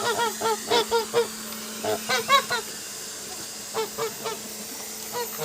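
Geese honk in several short bursts, loud and close, with pauses between groups of calls over a steady low hum.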